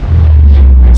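The Aurora ship's reactor exploding in Subnautica: a single massive, distorted blast of deep booming rumble that fills the whole second at very high loudness, with no voices.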